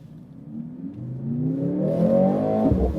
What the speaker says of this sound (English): maybe we can turn on the engine. Yeah, let's hear it.